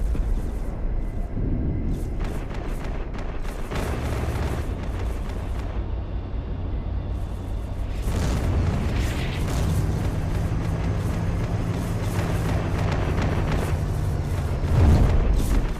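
Mine detonations in the video game Project Reality: Battlefield 2 during a minefield breach: a loud, continuous rumbling roar with heavy booming surges around the middle and near the end, and no talking.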